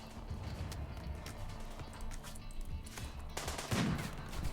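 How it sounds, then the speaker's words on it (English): Sniper gunfire in the Rimworld video game: scattered sharp shots over a busy, continuous background of game noise, with a louder burst near the end. "Hesling, snipe that person, would you?"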